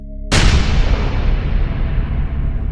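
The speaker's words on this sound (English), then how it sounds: "Bomb blast in Muzaffarpur!" A bomb blast in Muzaffarpur: a single sudden, loud explosion bursts in after a brief quiet moment, then a long, broad rumbling decay fills the rest of the clip.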